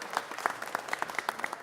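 Audience at a Los Angeles City Council presentation applauds, a close, steady patter of many hands clapping briefly with no talk over it.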